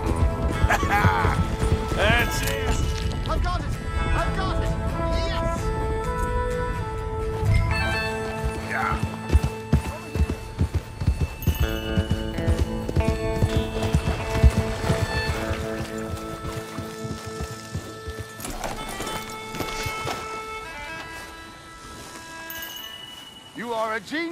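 A horse ridden in the Red Dead Redemption 2 game, its hooves clip-clopping in a steady rhythm through most of the stretch, fairly close and loud, with a neigh and people talking over it.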